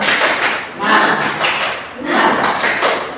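Sixth-grade students in a classroom performing the patterned 'tepuk semangat' clap, two loud rhythmic bursts of group clapping mixed with shouting voices.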